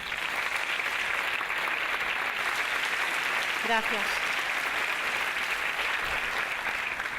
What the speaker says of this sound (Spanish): Un muy fuerte aplauso